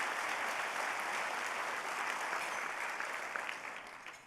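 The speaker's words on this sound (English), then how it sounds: "give them a round of applause, would you?" Sustained audience applause at a Texas policy summit honoring first responders and veterans, a dense steady wash of many hands clapping at even loudness that tapers slightly near the end, with no talking.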